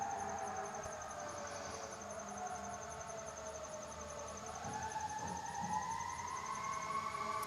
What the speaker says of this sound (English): that fire truck is like screaming